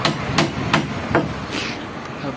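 Wood chisel struck by a hammer while carving a wooden Coca-Cola sign, giving about six sharp, evenly spaced taps close up over a steady background.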